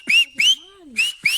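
Someone whistles with fingers in the mouth: four loud, shrill bursts in two pairs, each rising slightly, with a faint low sliding tone between them. Nothing else is heard.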